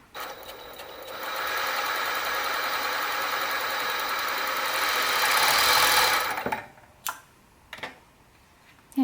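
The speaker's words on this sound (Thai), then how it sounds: "แล้วก็ดึงผ้าออกมา จากนั้นวางตีนผีลงนะคะ แล้วเหยียบจักค่ะ" An overlock sewing machine stitches and wraps a fabric edge in one loud, steady whirring run of about five seconds, then slows and stops, followed by a few short clicks and handling noises.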